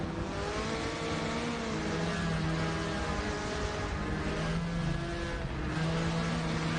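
Group C sports-prototype racing cars on a circuit, engines roaring at steady high revs with rising and falling pitch as they brake and accelerate, a continuous loud drone.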